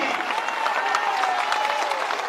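A large crowd claps steadily at an outdoor political rally in Lakhisarai, Bihar, a dense, even wash of applause that fills the whole moment without a voice over it.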